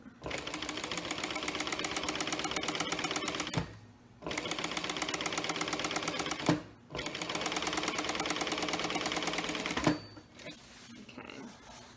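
A sewing machine top stitches a zipper pouch in three long, steady runs of rapid, close mechanical whirring, broken by short pauses, then slows and stops near the end.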